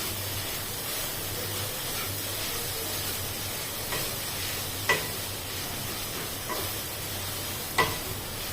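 Soybean sautéed and stirred in a pan for a lunchbox pulao gives a constant close sizzle and hiss, with a few sharp clicks of a spoon against the pan and no talking.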